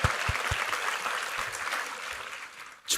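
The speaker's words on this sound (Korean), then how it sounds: "우리 하나님께 감사와 영광의 박수 올려드리겠습니다" Applause from a church congregation during a Sunday worship service, a dense spread of clapping that holds steady through most of the stretch before tapering, with a short burst at the very end.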